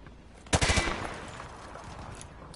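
Automatic weapon fire penetrating light cover on a military training range in Call of Duty: Modern Warfare 2 Campaign Remastered: a sudden loud burst of rapid shots ringing off into echo, followed by quieter background rumble.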